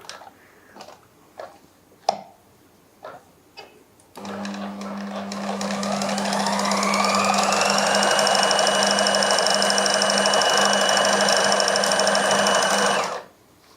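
A sewing machine runs steadily for about nine seconds, stitching piping along the edge of a lehenga, its whirring hum building up and holding loud and close before stopping abruptly, after a few light clicks and taps.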